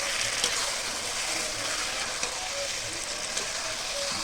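Spiced okra stirred and fried in a wok gives a constant hissing sizzle with occasional light scrapes and taps, close and even throughout.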